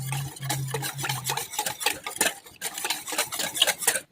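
A spoon stirs roasted gram flour into a taro leaf curry in a pot, giving repeated scraping and clinking strokes in an uneven rhythm, close and moderately loud, with no talking.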